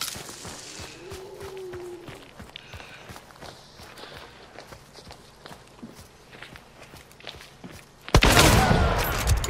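Gunfire in a shooter video game, a series of sharp rapid shots scattered over footstep-like clatter, ending with a loud close burst of dense firing.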